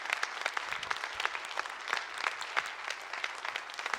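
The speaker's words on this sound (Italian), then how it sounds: "l'applauso è tutto vostro" A live cabaret audience applauds a Sassari folk group, steady dense clapping sustained throughout at moderate loudness with no voices over it.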